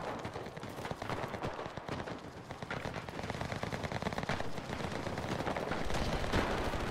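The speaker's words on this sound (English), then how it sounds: "guys are all using their heavy machine guns" Heavy machine guns in the wartime shooter Enlisted rattle in dense, continuous rapid fire, steady and moderately distant, with layered bursts throughout and no talking.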